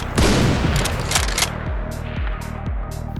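Sniper rifle shots in Minecraft with the ActualGuns 3D mod, a burst of sharp cracks followed by a series of evenly spaced booming reports, each dropping off with a short decaying tail.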